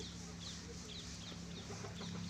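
Chickens clucking while pecking feed off the ground at a poultry farm, repeated soft clucks over a steady background hum, moderately close, without clear talk.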